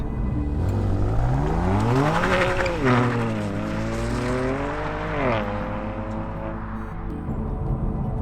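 A BMW F87 M2 engine revs hard through several gears, the exhaust rising and dropping in pitch as it accelerates, loud and close with no voices.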